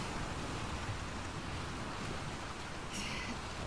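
Ocean waves in The Last of Us Part 2 make a loud, continuous broadband wash of surf and water noise, with a short brighter hiss partway through and no voices.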